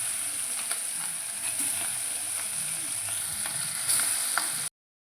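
Masala-coated pieces dropped into hot oil, frying with a steady, close, bright sizzle and faint stirring clicks, no talk, ending abruptly in silence.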